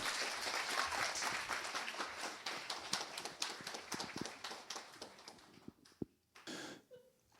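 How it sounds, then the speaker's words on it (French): Audience applause for a magician at a live stage show, dense clapping filling the room before thinning out and trailing off into scattered claps near the end. "je vous demande d'applaudir Alexis Timic"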